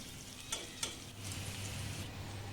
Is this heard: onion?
yes